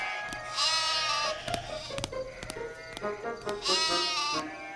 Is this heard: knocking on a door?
no